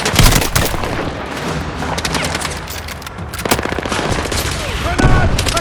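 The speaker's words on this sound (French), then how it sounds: "Il tire encore, Gecko." Gunfire in a military video game assault on Gibraltar, with loud sustained automatic bursts and heavier booms layered together, close and continuous throughout, with a voice briefly shouting in the mix.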